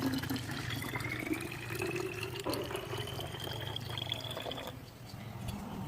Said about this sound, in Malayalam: എന്നിട്ട് ഇത് വെള്ളം ഒഴിക്കുക